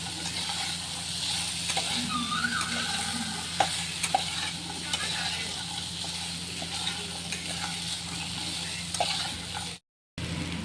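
A steady sizzle from potatoes and chickpeas frying in a pan as water is added, with soft stirring and clinks under a continuous hiss, fairly quiet throughout.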